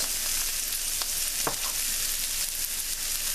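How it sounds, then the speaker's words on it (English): Canned mushrooms saute with salt and black pepper in a hot cast iron pan, giving a steady, close sizzle throughout with a couple of brief stirring scrapes around the middle. "So we're going to let these saute until it starts getting soft"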